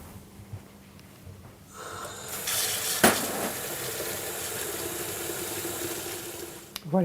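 Hot water poured over raisins in a kitchen for a Moroccan-style lamb shoulder dish, a steady close splash and trickle running for several seconds with a brief clink of a vessel partway through, no talking.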